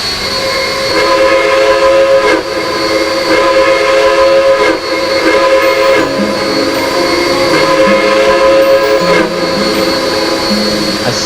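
A B&O three-chime train whistle in the Trainz railroad simulator, a loud sustained chord sounding close, with several short breaks and re-blows across the stretch, alone without talk.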